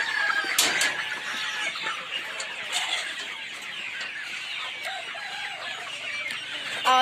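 Several two-month-old poultry hens cluck and chatter continuously at moderate distance, with a few sharper calls rising above the steady flock noise.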